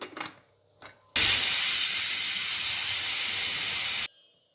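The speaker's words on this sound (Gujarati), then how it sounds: "હવે હું આને લગભગ 3 થી 4 સીટી મારી દઈશ ફ્રેન્ડ્સ" Steam releases from a pressure cooker whistle while steaming vegetables for Gujarati undhiyu, a single loud sharp hiss lasting about three seconds that cuts off abruptly after a few faint knocks.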